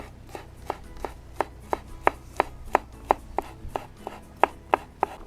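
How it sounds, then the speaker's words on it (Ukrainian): Three garlic cloves are sliced with a knife on a board, about fifteen crisp, evenly spaced chops close by with nothing else heard. "нарізаємо часничок"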